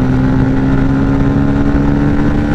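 Dominar 250 and Pulsar F250 motorcycles at a drag race launch, loud sustained engine roar with a steady buzzing drone held close throughout.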